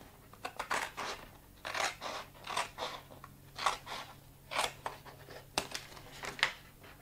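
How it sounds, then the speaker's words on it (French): Scissors snip repeatedly at close range, a series of crisp cutting strokes in an uneven rhythm with no talking. "Les ciseaux se glissent tout seuls dans le creux."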